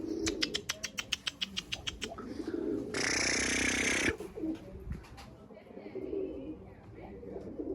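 Tumbler pigeons heard outdoors with a quick run of sharp flapping wing claps, then a burst of wind-like rush and soft cooing, while someone talks nearby.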